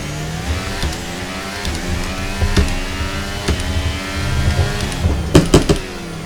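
Formula 1 race cars in the F1 23 video game at the Qatar circuit, high-pitched engines whining and shifting as cars jostle for position, with rapid clicks and bursts of revving near the end.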